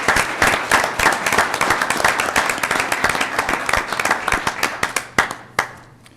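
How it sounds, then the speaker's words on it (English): Applause at a city council meeting, a modest group clapping in a room, individual hand claps sharply distinct and fairly close, continuing for several seconds before thinning out at the end. "we could give Carson another big round of applause for all of his efforts"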